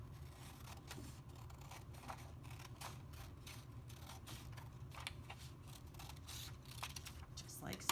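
Scissors cut through paper at a craft table, a steady run of crisp short snips and scraping blade strokes repeating in quick rhythm, close and fairly quiet over a low background hum.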